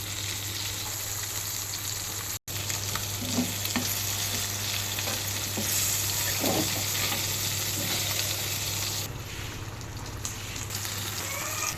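Fish and chopped eggplant fry in a pan with a dense, constant sizzle and crackle, joined by a few soft stirring scrapes, a steady low hum underneath.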